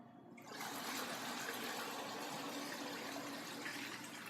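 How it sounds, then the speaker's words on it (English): Water rushes steadily out of a commercial dish machine tank as it drains before descaling, a continuous close gushing flow that starts abruptly and holds at an even level with no talk. "The first thing we want to do when descaling a dish machine is drain the tank."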